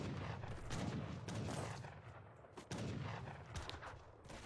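Heavy cannons and culverins fire in a strategy video game, a dense run of booming blasts with rolling rumble and a couple of sharp louder reports, heard alone.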